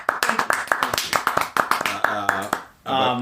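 A podcast host gives a short burst of applause: about a dozen sharp, close hand claps in an uneven patter over roughly two and a half seconds, ending in a brief sustained musical tone.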